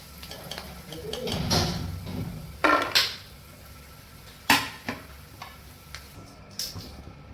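Almonds roast in a pan while being turned, giving a faint sizzle and a few crisp scraping knocks against the metal, with quiet gaps between them.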